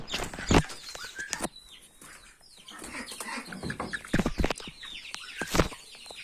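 A rooster bolts from its keeper during the evening shut-in of the poultry, wings beating in several sharp close bursts amid clucks and scuffling, with soft gaps between.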